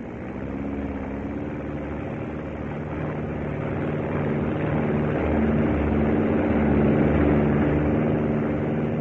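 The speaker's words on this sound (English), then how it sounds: "Takeoff was quite smooth." Vintage propeller aircraft engine droning steadily as it takes off in an old radio drama, a continuous loud hum that swells gradually, with no voices over it.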